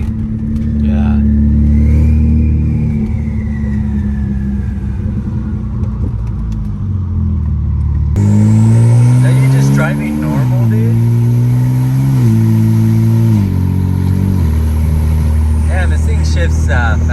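A BMW 335i with the N54 engine and upgraded 19T turbos accelerates hard and revs through several quick gear shifts, the loud engine note rising and dropping in steps. It is heard from inside the car, with people talking over it.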